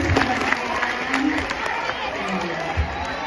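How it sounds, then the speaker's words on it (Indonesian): Students clap and chatter at a school Maulid celebration in a junior high school, with crowd noise and scattered cheering layered under a speaking voice on a microphone. "Tepuk tangan untuk kelas 8E."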